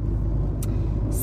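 A car driving home on the road, heard from inside as a steady, loud low rumble of engine and tyres with no break.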